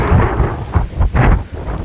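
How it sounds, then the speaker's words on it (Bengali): Continuous heavy rain on a farm after three days of downpour, a dense broadband rush with gusty swells, close and loud, no voices. "একটানা বৃষ্টি হচ্ছে আজকে তিন দিন"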